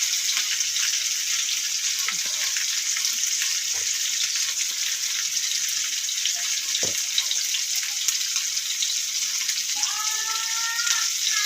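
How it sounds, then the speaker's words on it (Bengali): Potatoes fry in oil for an aloo besan curry, giving a steady, dense sizzle with a bright hiss throughout and a few soft clinks near the end. "এবার আমি আলুগুলো ভাজা পর্যন্ত চেষ্টা করি, আলুগুলো ভাজা হলে পরে নামিয়ে নেব।"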